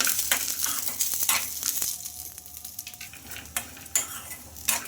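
Roasted chana dal, dried chillies and cumin fry in a pan for a chutney, a soft sizzle under repeated close scrapes and clinks of a spoon against metal, with no talking.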